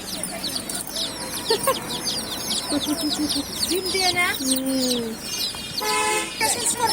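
Chickens cluck and squawk nearby in Kokrajhar, Assam, while other birds chirp, with people talking in the background and a few short horn-like toots.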